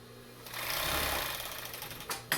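A sewing machine serging fabric for 1959 Ford 300 seat covers, giving a brief close whirring run that speeds up, holds and then tapers before a final clack, with no talk.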